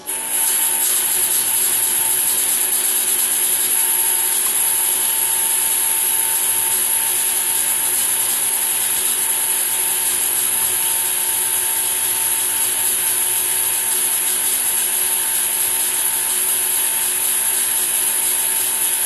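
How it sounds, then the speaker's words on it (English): A fog machine blowing into a 5-gallon pail of plain ice, a steady, loud, unbroken hiss and blowing noise with a faint hum beneath, unchanging from start to finish. "just the fog machine up against the pail with a screen on an in and an out, no hoses at all"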